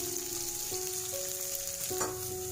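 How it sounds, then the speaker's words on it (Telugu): Curry leaves stirred in a frying pan while making egg uggani, a steady close sizzle of frying with light scraping of the stirring utensil running through the whole stretch. "కరివేపాకు ఇలా బాగా కలుపుకొని"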